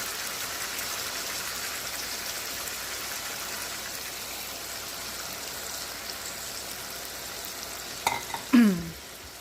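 Chicken curry with soy sauce cooks in a pan, giving a steady, even sizzle and frying hiss throughout, with a few louder scraping or stirring knocks near the end.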